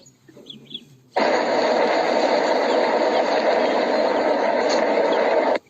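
After a moment of quiet rustling, a loud car engine starts up and runs steadily, a constant rumbling roar that cuts off abruptly at the end.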